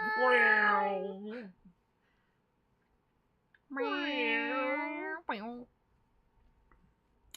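A cat meowing loudly from a played video in a room, two long drawn-out meows separated by a pause, each ending in a shorter call, close and clear.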